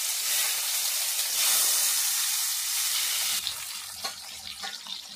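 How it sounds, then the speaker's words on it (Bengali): Slices of potato and eggplant rubbed with salt, turmeric and chilli powder fry in hot oil, giving a steady broadband sizzle and hiss that eases slightly partway through, with a few small crackles and pops near the end and no talking. "একটা একটা করে ভেজে নিচ্ছি।"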